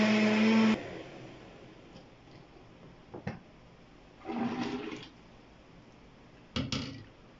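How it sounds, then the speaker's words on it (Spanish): Kitchen blender spun with extra liquid to rinse it out after making Oreo ice syrup, a loud whirring burst that cuts off abruptly, followed by a few brief, fainter pulses and quiet stretches. "usamos más líquido para que la licuadora quede limpia"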